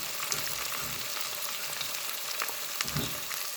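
Tomatoes fry in a pan with a steady, close, crackling sizzle and a few soft stirring bumps, no voices.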